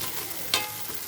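Hilsa fish tail sizzles steadily in a pan as it finishes frying for a mashed bharta, with one brief louder crackle partway through.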